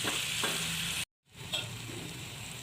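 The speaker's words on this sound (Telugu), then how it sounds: "ఇప్పుడు రొయ్యలు వేసుకోవాలి ఇలా కలుపుకోవాలి" Prawns frying in a pan with ground spices and turmeric, a steady close sizzle broken by a brief moment of silence, then stirring scrapes and renewed crackling.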